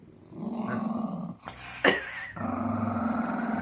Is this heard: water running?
no